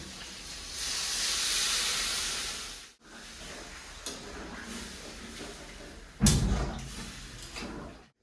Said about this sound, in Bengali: বাটি ধোয়া জলগুলো দিয়ে দেবো, এবার জলটা দিয়ে দেবো।